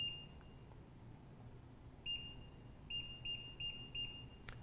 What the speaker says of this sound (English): A single short beep followed by four more short beeps tells us that our battery condition is very good.